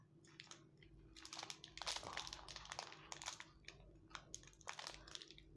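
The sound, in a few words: ripping open a bourbon biscuit packet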